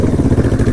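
A 500cc air-cooled quad bike engine on a forest road, running hot and steady with a low, throbbing mid-range rumble and rhythmic pulsing, close and continuous.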